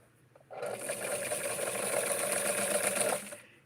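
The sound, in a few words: sewing machine stitching vintage flower power fabric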